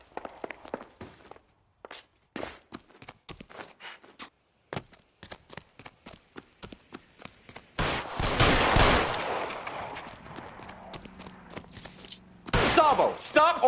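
Gunfire in the video game L.A. Noire: a run of footsteps gives way to a loud sustained burst of shots, then another sharp volley near the end, with a voice briefly heard.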